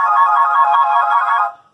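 A ringtone plays loud and clear from the speaker of a Crosscall Trekker-M1 Core phone, a bright steady melodic tone for about a second and a half before cutting off, with no talk.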